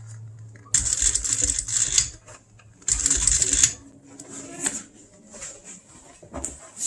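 A sewing machine stitches boat seat material in two loud runs of rapid needle clatter, separated by short pauses with light clicks and handling sounds.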